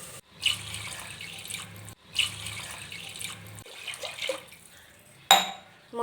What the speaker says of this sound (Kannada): ಹಂಗಾಗಿ ಮೂರು ಲೋಟ ನೀರು ಹಾಕ್ಕೊಳ್ತೀನಿ